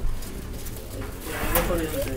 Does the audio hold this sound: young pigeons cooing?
yes